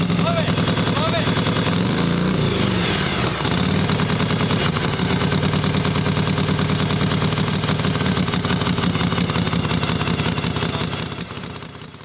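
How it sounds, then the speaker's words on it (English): A 1939 Harley-Davidson Knucklehead EL motorcycle engine, kick-started, runs loudly with a rough, lumpy idle, revving briefly before settling into a steady throbbing beat that fades slightly at the end. "we're gonna turn it on and we're gonna kick the bike to life"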